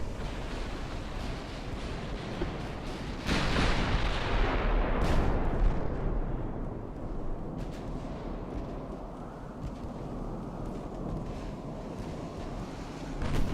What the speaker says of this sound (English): I think we just took a 14-inch hit's what I heard